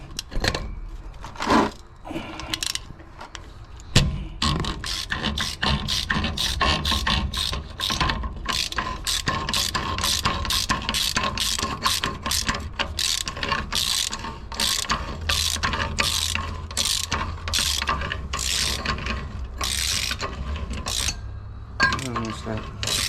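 A ratchet clicks steadily while backing off the nut on the rear brake rotor hub of a 2012-2016 Ford F-450 cab chassis, dense rapid pawl ticking close up with some metallic clinks throughout.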